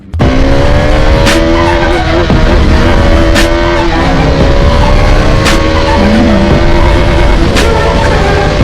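Bajaj Dominar motorcycle engine revving hard under throttle, a loud, close, continuous roar with rising and falling pitch throughout.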